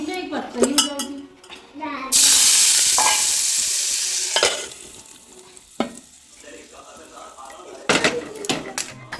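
Loud hissing sizzle as hot oil tempering hits a pan of chokha, with clinking utensils and stirring before and after.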